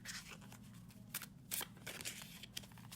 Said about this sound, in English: to get a really good shuffle, if you're starting with a deck that's in order, is overhand shuffling